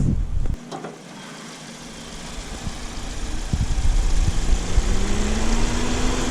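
A 2.0-liter four-cylinder engine in a 2019 Toyota C-HR idling with a steady low rumble, a brief clunk near the start, and the hum rising slightly as it runs.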